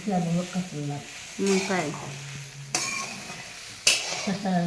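Sago pearls and green chillies stirred in a hot pan for sabudana khichdi, with scraping spatula strokes and soft sizzling in short bursts, alongside a woman's speech.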